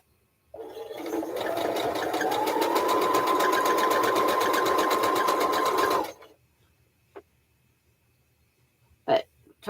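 A sewing machine stitching a quilt with the presser foot pressing against something, a steady loud whirring run of about five seconds that stops abruptly, followed by a few faint clicks and one sharp knock.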